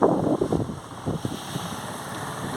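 A waterfall near Mumbai and Pune runs full after rainfall, a steady broad rush of water with some wind buffeting the microphone and faint low murmurs early on.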